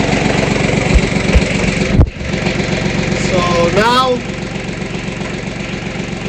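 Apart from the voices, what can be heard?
tractor engine idling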